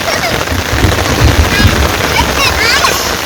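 Steady rain falls outdoors in a village, a dense, even hiss of drops striking surfaces close by, with a few louder patters standing out.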